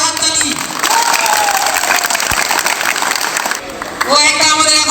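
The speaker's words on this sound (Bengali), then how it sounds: "ওই জন্য একটা জোরে হাততালি" Loud, dense applause from a crowd of school students at a high madrasah function fills most of the stretch, with voices mixed in throughout.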